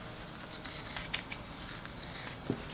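Scissors trim fabric for a 1950s-style dress, a series of quiet, close snips and crisp cuts in an otherwise hushed room.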